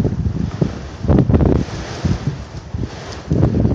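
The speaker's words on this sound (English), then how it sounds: "if you can hear the wind, it's getting far too windy" Wind buffets the microphone in loud, uneven gusts, rumbling and rising and falling over a few seconds, with no voices.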